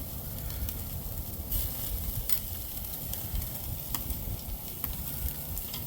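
Lamb chops sizzle over direct heat on a Weber kettle grill, a steady even hiss with small crackles and ticks scattered throughout, no voices.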